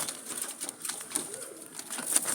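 Jalali pigeons coo softly, a faint, low, rolling call with light rustling around it and no talking.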